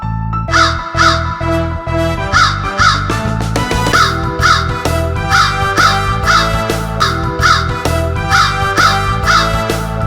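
A person imitates crow caws during a church skit, repeated loud caws in quick bursts of two or three over a steady low hum, close and clear with no talking.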